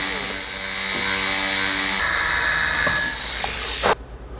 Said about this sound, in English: So I'm going to drill a hole.